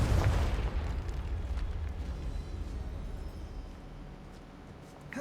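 A Confringo spell blast in the Hogwarts Legacy video game: a heavy booming explosion hits at the start, then rumbles and decays over several seconds before a fresh burst at the end.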